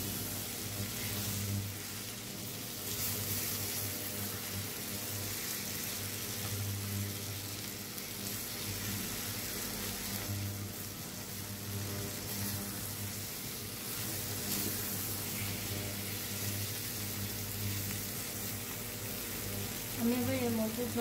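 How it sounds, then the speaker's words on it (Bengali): Spices for a vegetable chicken curry fry and get stirred in a pan, giving a steady sizzle with occasional scraping throughout, moderately loud and with no one talking. "কষানোর পর আমি আবার এটার মধ্যে নাড়াচাড়া করে কষানো হয়ে যাচ্ছে, কারণ এই তলায় লেগে যাচ্ছে মশলাগুলো"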